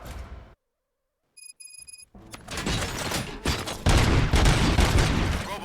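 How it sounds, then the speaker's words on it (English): Gunfire erupts in Robocop: Rogue City after a brief silence and a chiming electronic tone, building into dense, loud, rapid volleys with heavy booms and impacts that continue to the end. "Gunshots? What's going on?"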